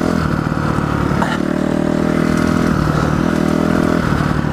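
A 2008 four-stroke 250cc motorcycle engine revving close by, loud and steady throughout, with the pitch rising and falling over a constant rumble.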